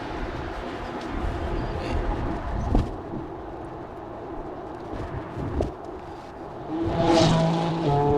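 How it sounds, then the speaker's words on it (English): A car with a loud, throaty aftermarket exhaust roars past nearby, swelling over steady road and engine noise before fading. "another car with a fancy muffler decided to go around me"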